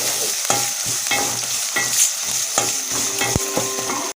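Chopped onions with round dried red chillies and green chillies frying in oil for a toor dal onion sambar, a steady close sizzle broken by sharp clinks of a spoon stirring against the pan.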